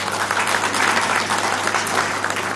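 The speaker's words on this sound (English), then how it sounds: "A big round of applause for him." Conference audience breaking into steady, dense applause, loud and continuous throughout with no speech over it.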